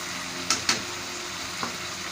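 Salt and red chili being stirred into chickpea masala frying in a pan, a low steady sizzle with two quick spoon scrapes near the start and one softer stroke later.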